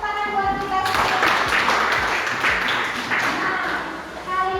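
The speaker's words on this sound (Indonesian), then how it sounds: "Tepuk tangan buat kita semua." A classroom group claps hands together in a sustained burst of dense, even applause lasting a few seconds, starting after a brief voice and fading near the end as talking returns.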